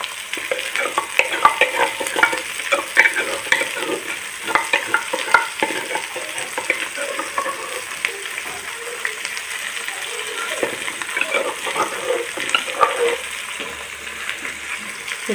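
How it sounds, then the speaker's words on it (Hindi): Onions and tomato paste frying in a pan as a spoon stirs them, with dense crackling sizzle and frequent quick scraping clicks at close range, continuous throughout with no speech. "टमाटर का पेस्ट भी मैंने डाल दिया, ये भी साथ मिक्स, ये भी साथ मिक्स कर देती हूँ"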